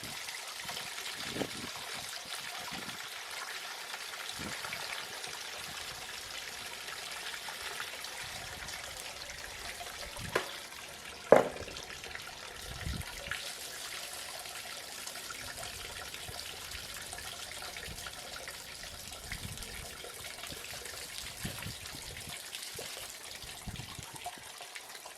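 Sediment-laden water drains steadily from an RV water heater into a container. It makes a continuous, fairly quiet trickle, broken by a couple of brief knocks and clunks partway through.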